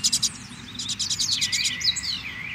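A pardinho sings alone nearby in fast trilled bursts and rising whistled phrases, clear and fairly soft over a faint low rumble.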